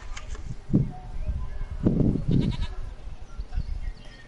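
A goat in The Witcher 3 gives a short bleat followed by a longer wavering call, near and moderately loud over a faint ambient game backdrop.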